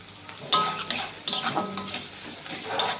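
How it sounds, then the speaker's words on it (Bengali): Onions fry in a pan for a Bengali hilsa fish fry, with a steady sizzle broken by several sharp metallic scrapes and clinks of a spatula stirring against the pan, close and without speech. "পেঁয়াজটাকে ব্রাউন করে ভেজে নেব।"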